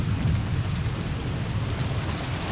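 Steady rain and wind from a thunderstorm, a constant dense wash of sound with a low rumbling undertone throughout and no voices.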